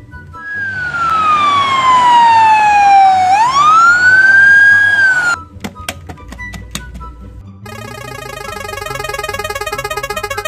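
Toy police patrol car siren wailing loudly and continuously, a long descending-then-rising sweep followed by rapid electronic beeps and a buzzy warbling tone, close up with no talk.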